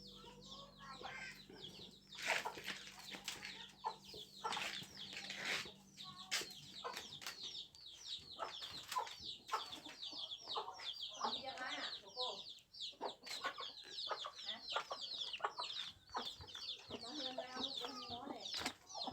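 Chickens cluck and cackle at a backyard coop in an Akha village in Laos, with repeated, irregular calls from several birds near and far, a low hum early on and occasional wing flaps.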